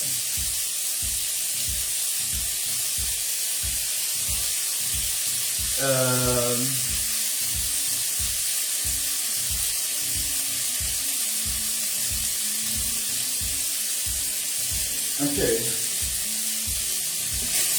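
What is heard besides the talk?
meat frying in a pan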